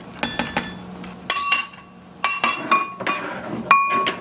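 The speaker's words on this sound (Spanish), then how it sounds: "Lo voy a revolver un poquito antes de poner el pescado" Utensil clinking against a pot while stirring a seafood stew of shrimp before the fish goes in, with sharp metallic taps and scrapes coming in irregular bursts, close by with no talking.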